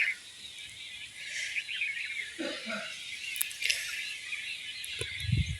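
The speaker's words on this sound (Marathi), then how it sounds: "पाखरांची चुचुआट" Faint, distant birds chirp sporadically over a steady outdoor hiss, with a few soft thuds near the end.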